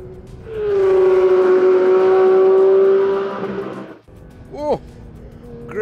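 Porsche 911 GT3 RS at full throttle on Silverstone circuit: a loud, close engine roar holds a rising, steady high-revving note for about three seconds, then cuts off, followed by a brief sharp rev blip and lower rumble.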